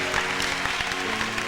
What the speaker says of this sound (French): Oh, acclamez le Seigneur encore une fois.